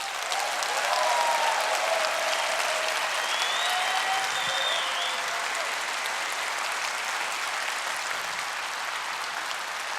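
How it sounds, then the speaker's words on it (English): Sustained applause from a large audience in a conference hall at a gaming fan festival, a dense even wash of clapping lasting the full stretch with a few faint whistles, strong throughout with no speech over it. "join me in thanking them with a huge applause"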